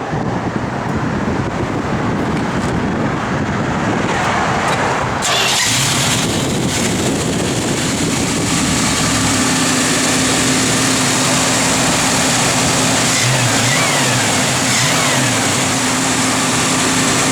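A 1974 Dodge Challenger's engine cranks and catches on a cold morning with the choke on, then settles into a loud, steady, rumbling idle heard up close.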